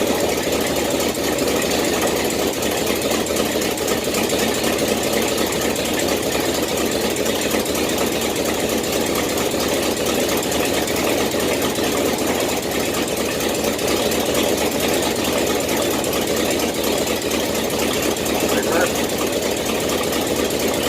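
A 1967 Chevelle with a 396 V8 running steadily after cranking, a loud, close, rough idle with an even mechanical chatter that holds without a break.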